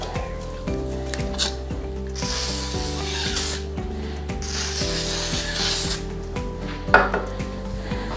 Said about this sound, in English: pushing in one direction and then pushing in that direction